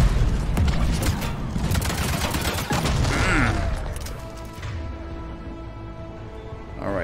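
Dense, rapid bursts of cluster grenade explosions and weapon fire in the Mass Effect 3 Omega DLC, loud and continuous before fading into a lower rumble and game hum.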